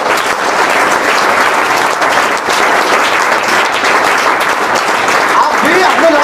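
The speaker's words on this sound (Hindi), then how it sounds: "ऐसे व्यक्ति को, इनके लिए इतनी जोरदार तालियां होना चाहिए।" Loud, sustained applause from a large audience at a motivational guidance talk, a dense unbroken roar of clapping filling the whole stretch.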